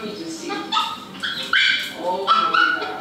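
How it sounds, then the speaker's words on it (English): An excited dog whimpers, yips and barks in short bursts close by, with people talking over it. "Damn, you got the dog excited."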